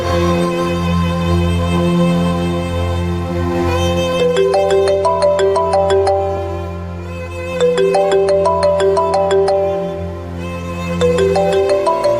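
A mobile phone ringtone from a Kannada TV serial scene plays a bright, looping electronic melody over a sustained backing tone. It is loud and close and repeats its phrase, with no talking.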